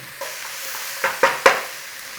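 Ground cumin toasting over a moderate flame in a pan gives a soft steady sizzle, with three short stirring scrapes close together near the end.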